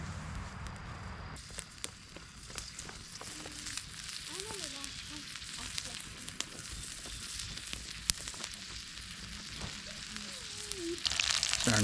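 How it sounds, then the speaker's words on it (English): Fish fries in a pan over a campfire with a steady, close sizzle and scattered crackles and pops, under occasional quiet speech. "Starting to fry up good."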